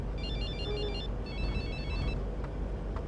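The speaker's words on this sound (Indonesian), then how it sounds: "Iya, gue telepon deh." Telephone ringtone heard while placing an outgoing call, two bursts of warbling electronic ring pulses over a steady low hum, fairly loud and without speech.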